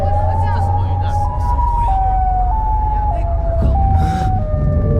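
A wailing, stepping siren from the Siren Head monster in a video game sounds loud and steady, shifting pitch in a slow rising-and-falling pattern over a low rumble, with no speech.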